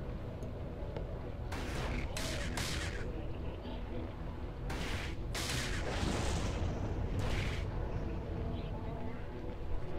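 Ship weapons fire in EVE Online space combat, video game: several sharp bursts of shots spaced irregularly over a constant low hum, fairly loud and continuous, with no voice over the firing.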